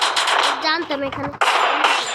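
In the mobile shooter Free Fire, loud rapid bursts of gunfire crackle close by, broken by a short voice partway through before the shooting resumes.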